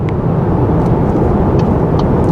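Steady, even wind and road hush inside a 2024 VW Tiguan cruising, a low broadband rumble holding constant throughout with no voices.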